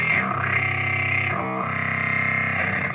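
Electric guitar distortion from an Audio plasma coil fuzz pedal with lower octave, played direct with no cabinet simulation, a steady loud buzzy chord with a harsh, fizzy top end and a brief change midway.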